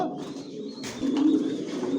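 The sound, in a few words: racer pigeons cooing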